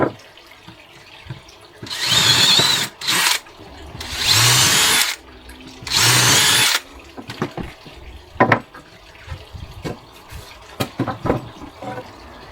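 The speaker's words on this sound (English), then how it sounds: "Right, let's get some drill holes in here." Three loud bursts of a power drill boring holes in wood, each a couple of seconds long, followed by quieter clatter and handling noises.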